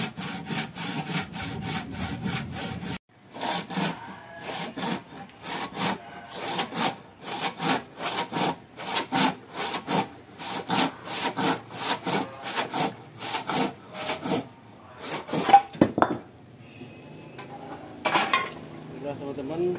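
A hand saw cuts wood for an acoustic guitar neck in a series of quick, rhythmic back-and-forth rasping strokes, close and steady, with a brief pause early on and scraping near the end.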